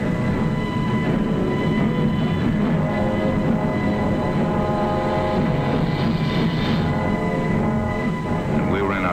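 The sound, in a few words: aircraft engines roaring at takeoff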